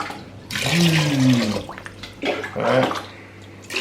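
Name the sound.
water being poured into a pot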